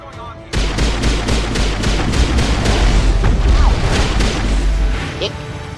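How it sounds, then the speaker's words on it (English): A sci-fi video game battle with Solarian forces: rapid, continuous rocket fire and explosions in a dense, loud barrage, with sharp repeated blasts over a steady rumbling roar. "Shot me with a rocket."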